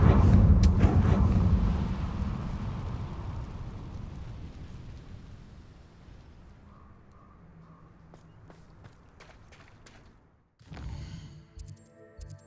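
Confringo spell in Hogwarts Legacy, a heavy booming blast that rolls into a long fading rumble, followed by quiet footsteps and a second sharp burst of clatter near the end.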